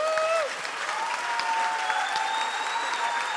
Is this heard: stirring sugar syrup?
no